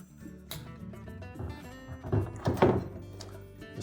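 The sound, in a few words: counterweight being hung on Whirlpool washer tub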